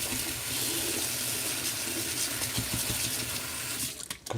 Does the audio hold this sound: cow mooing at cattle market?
no